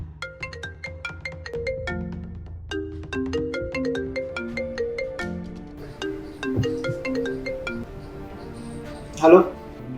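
A mobile phone ringtone plays a repeating melodic tune for several seconds as a call is placed to a lawyer, with a short clink near the end.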